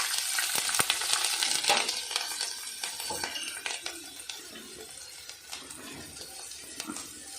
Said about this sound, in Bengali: মাছ ভাজার তেলে একটু কালো জিরে ফোড়ন,